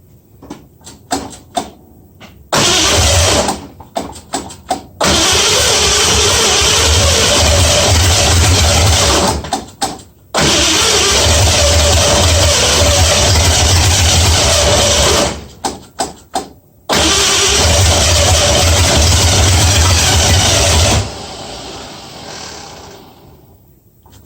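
A 1965 Mustang 289 V8 with a four-barrel carburetor, headers and one open header cranks with sputtering bursts, then roars loudly in long sustained stretches, cutting out and restarting several times before fading.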